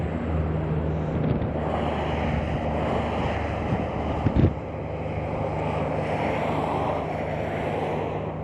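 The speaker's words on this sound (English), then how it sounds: "It's very windy," Strong wind buffets a camera microphone on a cold, 34-degree day beside Interstate 26 at Exit 5 in Kingsport, Tennessee, giving a loud, steady roar with gusty swells and a low rumble underneath.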